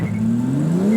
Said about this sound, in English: Let's do a quick launch.